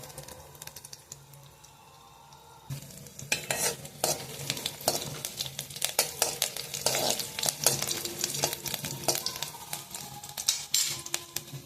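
Finely chopped garlic hits a cumin tadka for dal, setting off a sudden loud, crackling sizzle after a quiet opening, with busy stirring and scraping clicks throughout.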